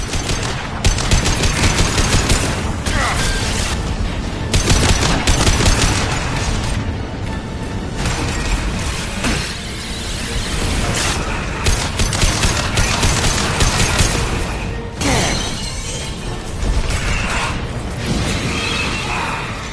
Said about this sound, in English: Firing anti-ship.